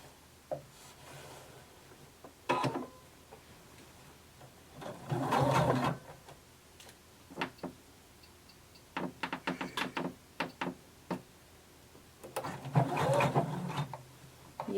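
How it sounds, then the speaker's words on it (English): Sewing machine running a seam from the center back with a regular stitch length, several separate bursts of steady stitching, a long one and shorter runs, with rustling fabric and handling clicks between them. "We're going to sew it starting at the center back and then down one side"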